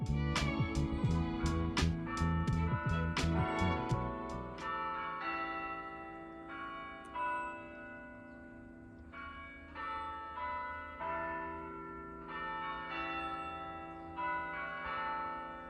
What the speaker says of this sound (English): I waited until 11 AM for the bells.